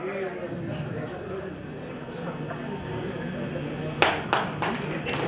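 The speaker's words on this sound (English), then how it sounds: "Let's hear a round of applause to this entire team" Scattered claps sound from an audience at a business conclave, thanking a dance team, with a few sharp, close claps near the end under ongoing talk and background murmur.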